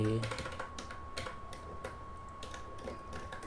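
Quick bursts of keystrokes on a computer keyboard as a Linux install command is entered while setting up an Orange Pi NAS server, the tapping close and fairly quiet, with a faint voice at the start.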